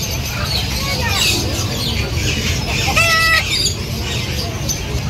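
Chickens and roosters cluck repeatedly at a home with poultry, a brief crowing-like call standing out near the middle, all under steady background noise with people talking nearby.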